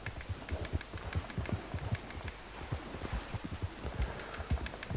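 A horse trots along in Red Dead Redemption 2, its hooves clip-clopping in a steady, even rhythm, close and moderately loud against faint outdoor ambience.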